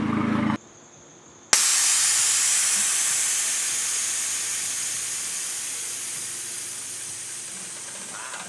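Air suspension on an MK4 Jetta or Golf lets out its air, a loud, steady hiss that starts after a brief hush and a click, then slowly tapers as the car drops.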